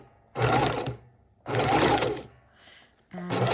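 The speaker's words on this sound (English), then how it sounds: "I'm going to hold my bobbin thread and my top thread as I get started. And I think I'll turn it over to a nice little zigzag stitch" A sewing machine stitches a zigzag across fabric scraps in three loud bursts of rapid mechanical whirring, each about a second long, separated by short pauses.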